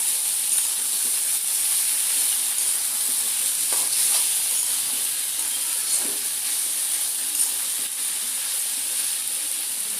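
Dried loitta fish frying in a pan and being stirred together with tomatoes, a steady loud sizzle running throughout with a few soft scraping strokes and no talking.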